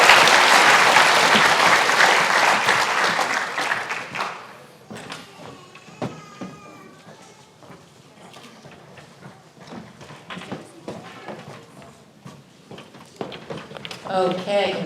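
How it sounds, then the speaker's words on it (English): Loud audience applause fills an education achievement ceremony, dense clapping that fades after a few seconds into scattered claps and thuds, with a voice speaking briefly and a renewed burst of clapping at the end. "One more round of applause."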